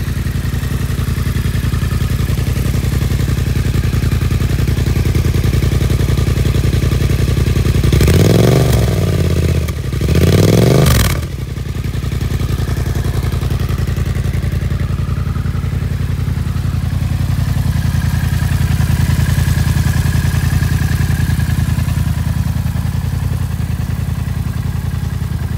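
A 2016 Yamaha MT-07 motorcycle idles with a loud, deep, steady bassy rumble close up, briefly blipped twice in quick succession before settling back to the even idle.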